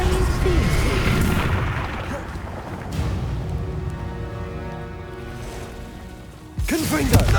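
A Confringo fire spell explodes in the Hogwarts Legacy video game during a duel, with a sharp magical burst and crackle near the start, a sustained humming tail, and another burst near the end amid game voices.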